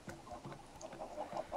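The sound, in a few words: chickens clucking in a video game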